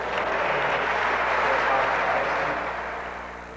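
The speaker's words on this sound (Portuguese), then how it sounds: "Palmas para eles." Applause from a crowd honouring tennis winners on a Brazilian TV sports programme, a broad steady wash of clapping that gradually fades over a few seconds.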